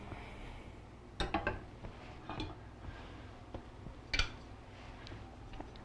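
A baked no-knead bread pot is lifted out of an oven, with a few light metallic clinks and knocks against the rack, sparse and close in a quiet kitchen.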